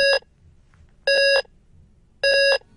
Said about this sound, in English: It all started with a beep.